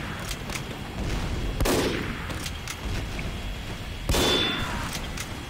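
A Team Fortress 2 sniper rifle headshot: two sharp, loud cracks with metallic clang, a few seconds apart, over steady game ambience and distant gunfire.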